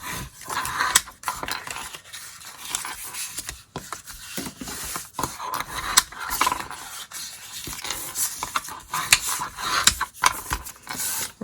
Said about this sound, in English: now we're going to fold on those score lines and burnish with our bone folder